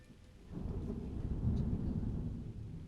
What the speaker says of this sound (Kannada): ಪರವಾಗಿಲ್ಲ, ಈಗ ಮಳೆ ಬಂತು